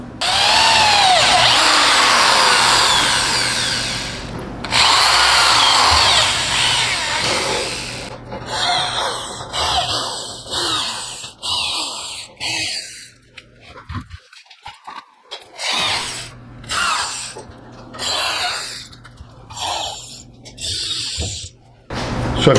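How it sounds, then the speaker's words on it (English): Power drill boring holes into logs for mushroom plug spawn, a loud close whine held for long stretches, then repeated shorter bursts with the motor winding up and down between pauses. "So I've got these all drilled,"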